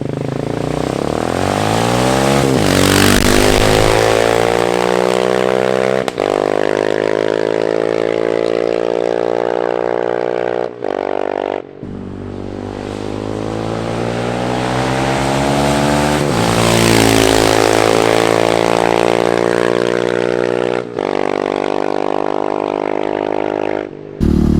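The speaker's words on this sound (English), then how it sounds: "we're on the XR650L, taking it through the tail" A Honda XR650L set up as a supermoto roars loud and close while being ridden, its single-cylinder engine revving up and down through repeated gear changes with brief drops between pulls and a constant rush of wind.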